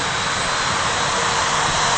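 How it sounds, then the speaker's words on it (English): An ice rink dehumidification system running outdoors, a loud, steady broadband whoosh of blowers and airflow with no change across the short stretch. "Outside here we see our dehumidification system running."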